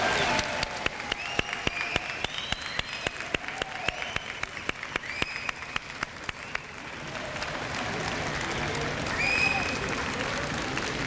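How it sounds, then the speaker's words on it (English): Applause from an audience at a Mt. Hope High School awards ceremony, dense clapping for about seven seconds before it thins into a murmuring crowd with some speech. "Let's give them all a big round of applause"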